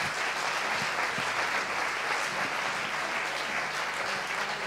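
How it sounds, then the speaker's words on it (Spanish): A crowd breaks into sustained, dense applause, loud and even from start to finish with no break, a thick wash of many hands clapping together and barely any voice underneath. "Creo que le deis un aplauso para él."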